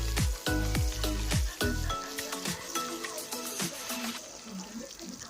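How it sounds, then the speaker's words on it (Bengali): Chopped onion frying in oil in a pan, a steady bright sizzle with some stirring, following a few loud low thumps at the start, close and fairly quiet. "পেঁয়াজটা ভালো করে ভেজে নেবে।"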